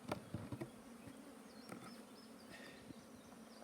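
Honey bees in an open hive colony of about 50,000 make a dense, continuous buzz. Individual bees drone close by and pass the microphone in short rising whines over the steady hum.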